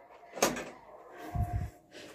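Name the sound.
sticking door being opened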